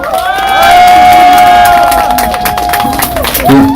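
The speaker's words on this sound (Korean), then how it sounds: "여러분 뜨거운 박수로 환영해 주십시오." A large crowd at a protest rally at Seoul Station cheers loudly, with sustained shouting and whooping voices over scattered clapping, all close and dense from start to finish.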